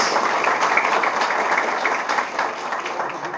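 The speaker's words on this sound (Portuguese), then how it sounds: "Mais uma salva de palmas, senhoras e senhores." Audience applause at a public ceremony for signing a well-drilling service order, a steady dense wash of many hands clapping that holds evenly throughout at moderate loudness.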